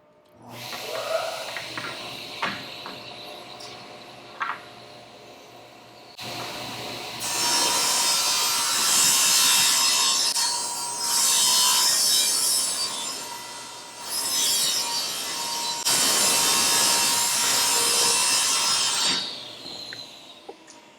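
A handsaw rips a 2-inch by 3/4-inch wooden board lengthwise to set the depth of a painting frame. Long rasping strokes come in several loud, close bursts, separated by brief pauses and lighter scraping, with no talk.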